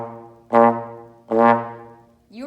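Trombone plays three separate quarter notes, each one cut off as the air stops, leaving short gaps between evenly spaced, loud, close tones.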